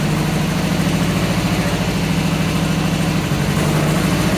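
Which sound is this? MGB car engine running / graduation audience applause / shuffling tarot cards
MGB car engine running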